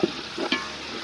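Tomatoes and green chillies stirred in a biryani pot cooked over a wood fire, giving a steady close sizzle with a few scraping stir strokes near the start and middle.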